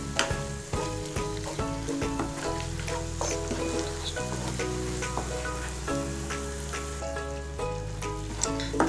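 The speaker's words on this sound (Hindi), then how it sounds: "मसाला अच्छी तरह भून लें।" Chole masala frying in a pan gives a constant close sizzle with occasional stirring clinks, set against background music and no speech.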